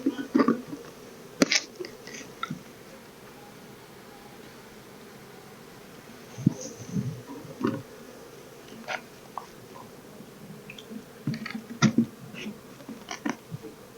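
Honey bees buzz faintly around a backyard hive during an inspection in Colorado, with scattered clicks, taps and small knocks breaking in every second or so over a steady low hum.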